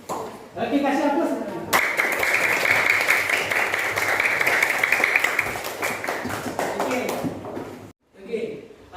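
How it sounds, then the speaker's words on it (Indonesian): Sixth-grade pupils in a Qur'an and Hadith class break into applause for a classmate, a burst of close, dense clapping that swells for several seconds and then thins out, with a teacher's voice before and after. "Oke, kasih aplaus."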